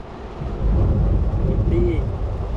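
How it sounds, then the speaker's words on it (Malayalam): Heavy rain roars steadily, with a low thunder rumble building beneath it, loud and close throughout with a brief faint tone near the end. "പക്ഷെ എന്താ സംഭവിച്ചാല് ഭയങ്കര മഴ കേട്ടോ, ഭീകര മഴ."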